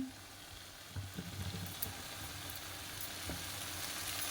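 Mushrooms fry on a low flame with a quiet, steady sizzle while a spoon stirs them a few times, producing soft scraping bumps near the start and middle.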